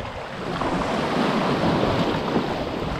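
Rough sea with waves surging around a kayak near a deserted island, a continuous dense wash of surf with wind noise, steady and close.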